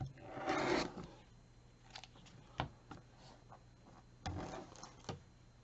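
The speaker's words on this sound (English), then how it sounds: "I'm going to cut this apart on the line" Sewn quilting fabric is cut apart along a line, making soft crisp slicing and rustling sounds in short bursts with quiet pauses between.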